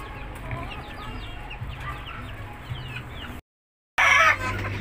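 A Kanawayon hen clucks close by in a breeding pen, repeated short clucks over a steady background, cut off by a brief silent gap, then a loud burst of clucking afterward.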